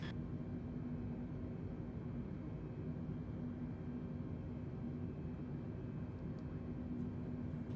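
Jet airliner engines climbing out in Microsoft Flight Simulator 2020 on a Delta flight from Denver, a steady, even cabin roar with a constant low drone and no change in loudness, with no talk.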